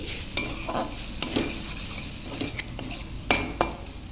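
Spoon stirring a prepared sauce mixture into chili soybean in a pan, with scraping clinks of utensil against metal and a soft sizzle beneath, several sharp taps spread irregularly through.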